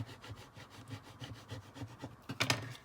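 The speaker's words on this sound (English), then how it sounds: "press down with my finger first and then burnish it with my squeegee" A squeegee burnishes a transfer onto a Christmas ornament in quick, repeated rubbing strokes, close and fairly quiet, ending in a brief louder scrape, with no talking.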